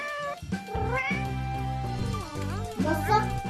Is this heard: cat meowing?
yes